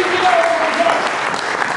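A church congregation claps and cheers during a French-language sermon, dense applause filling the space steadily with a faint whistle or voice rising over it.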